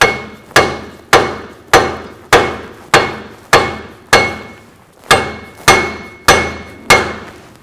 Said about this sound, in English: I'm gonna have to give it a couple more taps so that I can get that C-clip in.